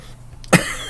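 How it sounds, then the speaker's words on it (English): A single sharp, loud cough bursts out close to the microphone after a quiet moment, with a short breathy tail. "I've got a cough."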